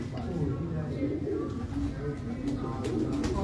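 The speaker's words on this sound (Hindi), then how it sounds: "ये मेन कबूतर हैं जी उस्ताद शोएब भट्ट साहब के, बेहतरीन कबूतर" Teddy pigeons in a Lahore loft coo in low, repeated rolling calls, close and continuous, mixed with someone talking in the background.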